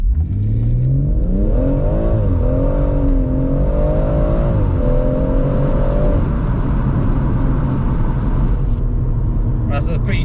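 A BMW M140i launches hard in a 0-60 run, its tyres spinning away power; the loud engine note climbs steadily in pitch, dips at two gear changes, then fades into a whoosh near the end.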